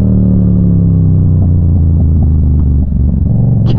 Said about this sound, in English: this thing backfiring like crazy